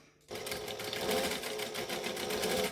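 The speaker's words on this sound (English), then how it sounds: "I'm just going to stitch it down" A sewing machine stitches down shorts fabric, starting abruptly and then running in a fast, even mechanical whir with rapid needle ticking, close and steady.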